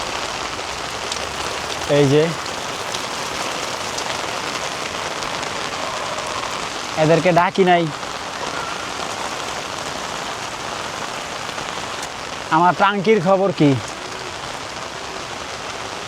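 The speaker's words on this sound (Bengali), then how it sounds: "তো বৃষ্টি মোটামুটি ভালো পরিমাণের বৃষ্টি হচ্ছে" Heavy rain pours steadily onto surfaces during the rainy season, a dense continuous hiss filling the whole stretch, with someone speaking briefly over it a few times.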